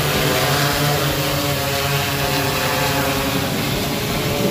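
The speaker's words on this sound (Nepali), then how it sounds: "ड्रोन उडिरहेको अवस्थामा छ यो" A medical drone built by final-year biomedical college students flies close by, its propellers giving a steady, loud, continuous buzzing drone with a constant tonal hum throughout.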